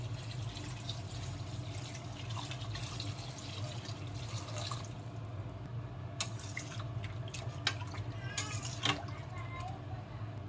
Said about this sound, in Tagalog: Ngayon, lagyan natin ng tubig.